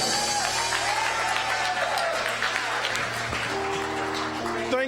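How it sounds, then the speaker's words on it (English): Audience at a Saturday morning forum claps steadily throughout, a dense continuous wash of applause with a sustained tonal hum and a few voices mixed in. "clap your hands right there."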